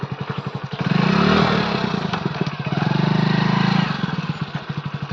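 A motorcycle engine idles nearby with a steady throbbing pulse, revving up twice in longer swells before settling back to a low putter.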